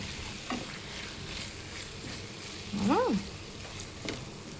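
Potatoes fry in a pan for a potato fry dish, a soft sizzle under steady scraping as they are stirred, with a short squeaky scrape in the middle.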